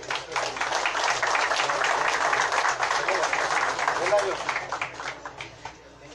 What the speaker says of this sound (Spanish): vamos a recibir con fuertes y calurosos votos de aplauso